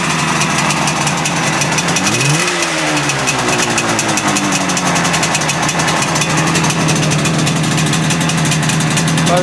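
A Yamaha YS5E motorcycle engine cranks on its electric starter, catches, then settles into a steady, loud idle with a rapid even two-stroke beat, close by.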